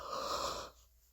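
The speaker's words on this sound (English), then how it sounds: "Oh, excuse the yawns." A person gives one breathy, drawn-out yawn up close, airy and wheezing for about half a second before fading into quiet.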